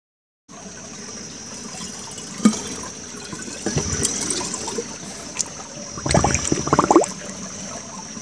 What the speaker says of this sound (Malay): Air Karang Panjang, mata air bersih yang sangat indah sekali.